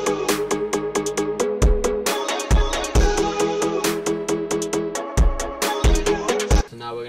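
An EDM remix of a song with freshly added drums, playing loud and steady: punchy kicks and bright snare hits beat a driving rhythm under layered synths, with no talking.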